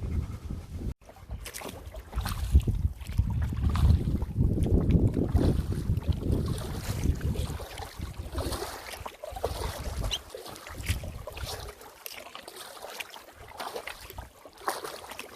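An Esquif Prospecteur 16 canoe is paddled on a lake. The blade makes soft, rhythmic splashes under strong wind noise buffeting the microphone.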